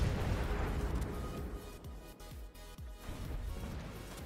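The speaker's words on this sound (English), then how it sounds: "Okay, one more salvo, then we'll hit him with the bombs" Salvos from a Tier VIII Dutch cruiser, the Haarlem, in the video game World of Warships: several deep booming gun blasts spaced about half a second apart over a steady low engine and sea rumble.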